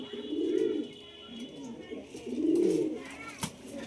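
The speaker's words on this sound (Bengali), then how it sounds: "এই 2 খাঁচা পায়রা আছে, গেট খুলে দিলে মোটামুটি উপরে চলে যায়" Caged pigeons on a third-floor rooftop coo in two long, throaty swells close by, separated by a brief pause, with a faint click near the end.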